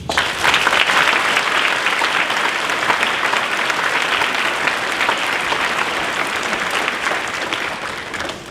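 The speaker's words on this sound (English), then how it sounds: "if I can ask you to give my staff a round of applause" Sustained applause from an audience of boys and parents at a primary school prize-giving, honouring the school staff; dense, steady clapping that holds for several seconds and eases slightly at the end.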